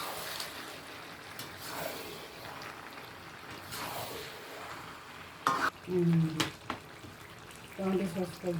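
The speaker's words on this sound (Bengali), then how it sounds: "ভালোভাবে সসগুলো মিশিয়ে নিচ্ছি।" Soy sauce and chilli sauce stirred into chilli chicken in a pan, a soft steady sizzle with scraping spoon strokes that grow louder toward the end, where brief clinks of utensil on pan stand out.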